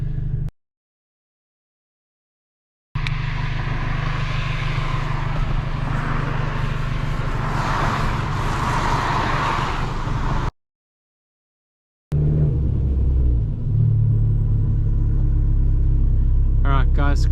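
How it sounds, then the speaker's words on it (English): Two cars climb a steep hill road. Their engines make a loud, steady rumble that grows closer, broken by two short stretches of complete silence. "Here comes two cars."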